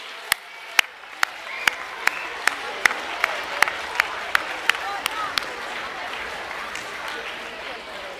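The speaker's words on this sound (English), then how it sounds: "Let's give Dewig a round of applause" Parents and students at a junior school academic awards assembly applaud Dewig, a sustained crowd clapping that runs throughout, with a series of sharp, evenly spaced camera-like clicks punctuating the first few seconds.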